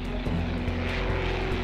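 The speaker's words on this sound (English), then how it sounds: "Hoping to close the gap, Anderson pushes to full throttle" A Messerschmitt Bf 109 propeller engine at full throttle, a loud, steady close-up roar with a rhythmic pulsing beat.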